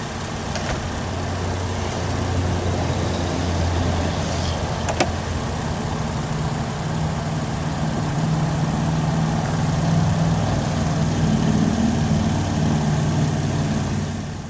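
A 2007 Volvo C70 with a 2.5 liter engine idles in a steady, continuous hum, with no talk over it.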